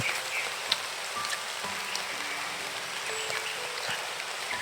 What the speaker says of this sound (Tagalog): Tapos ngayon umuulan.